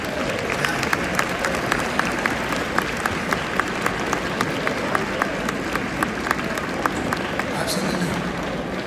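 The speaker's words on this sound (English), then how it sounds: "Let's give them a round of applause," An audience at a school gathering applauding as the class of 2027 stands, a broad, continuous roar of clapping with sharp individual claps popping out, while a voice speaks faintly beneath it.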